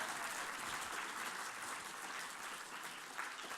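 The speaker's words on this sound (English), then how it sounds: "So you guys give them a round of applause." A conference audience at a computer science education day claps in a dense, steady round of applause, quite faint and distant throughout, with no speech over it.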